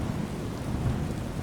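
Steady rain falls in Skyrim, around Riverwood, as a dense continuous hiss with a low rumble of thunder beneath it, loud and close with no other sounds.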